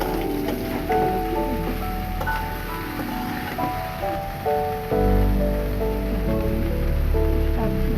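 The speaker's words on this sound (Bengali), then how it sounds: "একটা তেলে ভেজে এখন ভেন্ডিগুলো দিয়ে দিলাম।" Sliced okra frying in hot oil in a pan, a steady close sizzle and crackle resembling rain on a surface, with utensil scrapes and shifting tones.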